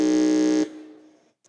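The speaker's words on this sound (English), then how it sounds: "So let's say if KNUST press their buzzer" An electronic contest buzzer at a junior science and maths quiz championship sounds one loud, harsh tone for about half a second, then stops abruptly and its echo fades away in the hall, with no talking over it.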